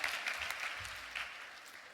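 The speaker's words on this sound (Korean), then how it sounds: "축하합니다. 박수해 주십시오." Applause from a church congregation during a Sunday service, a steady wash of clapping with a few louder bursts, sustained for the whole stretch without speech.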